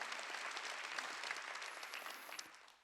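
A church congregation bursts into dense, sustained applause during a worship service, many hands clapping together at moderate distance before it tapers off at the end.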